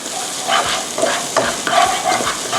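Chili and garlic stir-fried in a little oil in a pan for lemongrass pork ribs: a steady close sizzle with repeated rhythmic scrapes of a spatula stirring through it, no voices.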